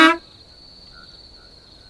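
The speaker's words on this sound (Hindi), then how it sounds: "अचानक बाहर से बस का हॉर्न सुनाई दिया" A bus horn gives one short, loud honk, then a faint tonal ringing fades out over quiet background.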